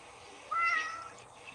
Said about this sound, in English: He's a very chatty cat.